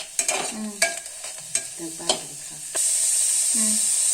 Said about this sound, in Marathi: कांदा कोथमीर टाकलेला आहे हलवून घेणार आहे